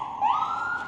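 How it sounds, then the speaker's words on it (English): An ambulance siren passes on a city street in Coolidge Corner, Brookline, Massachusetts, a loud steady wail that swells briefly near the start and stays close for the whole second, with no talking. "It's the ambulance."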